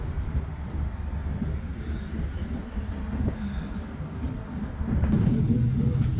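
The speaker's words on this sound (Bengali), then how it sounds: "আর এই আমাদের ট্রেন ঠিক টাইম মতো ছেড়ে গেল 8:30" A train pulls out of Banihal station in snowy Kashmir, a steady low rumble of wheels and carriage noise that grows slightly louder toward the end as it gathers pace.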